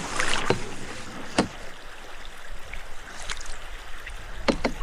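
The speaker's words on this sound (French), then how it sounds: "Ils tirent les canoës." Canoes dragged and pushed through a shallow, rocky Canadian wilderness stream, with a few sharp scraping knocks of hulls on stone over a steady rush of flowing water, close and fairly loud.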